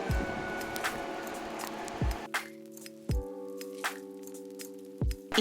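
A mashed banana mixture with nuts and grated coconut is stirred, giving wet squishing strokes and soft thumps that recur every second or so against a quiet background.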